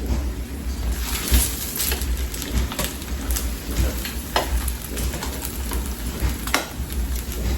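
Tortillas for tacos de cazuela fry in oil in a pan with a steady close sizzle and crackle, broken by scattered pops and light scraping taps.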